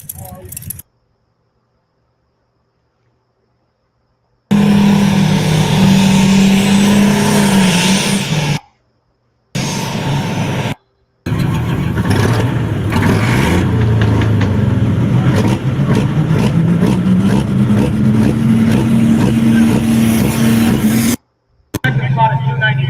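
An alcohol-class pulling tractor's engine roars and revs loudly at a tractor pull, rising and sustained over several seconds, broken by brief dropouts, with an announcer talking over it.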